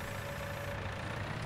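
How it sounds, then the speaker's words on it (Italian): A tractor engine in the video game Farming Simulator 2019 drones steadily at idle-like pitch, a continuous low rumble with no breaks throughout. "Adesso facciamo andare anche in entrosolco il nostro trattore."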